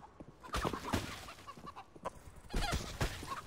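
Chicken clucking in CS:GO, a series of short, scattered clucks and squawks at moderate volume, with a cluster of louder calls toward the end and no voices.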